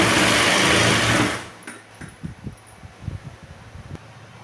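A sewing machine stitches the fabric of a boat neck kurti, running in a loud steady whir for over a second before stopping, followed by soft handling and rustling of the cloth.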